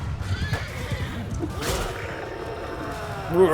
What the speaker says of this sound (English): See, that's the sound of camel dying.